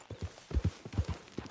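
A video game horse walks along with regular, moderately close clip-clop hoofbeats in an even rhythm, heard alone with no talking.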